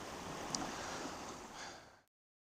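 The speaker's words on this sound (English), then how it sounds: "So now I've just got to wait for a wave to come up." Ocean waves surging against rocks and kelp at Griffith Point, a steady broad rush of surf with light wind, close and fairly loud, cutting off abruptly after about two seconds.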